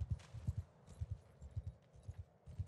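Horses gallop in Mount & Blade 2 Bannerlord, a quick rhythmic clip-clop of hoofbeats at moderate distance, fairly faint and steady with no talking.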